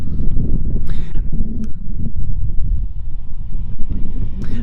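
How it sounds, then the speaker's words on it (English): Gusty wind buffeting a microphone on Dartmoor during snowy weather, a continuous low rumble with rising and falling gusts, loud and close throughout with no clear voices. "It is a little bit windy here this morning"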